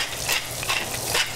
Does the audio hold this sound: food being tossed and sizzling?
yes